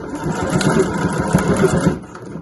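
A sewing machine runs a back stitch through the end of a weekender bag, producing a steady mechanical whirring hum at close range for a couple of seconds before stopping.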